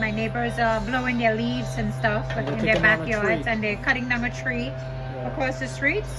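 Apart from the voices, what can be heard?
No distinct noise like a dog, phone or traffic.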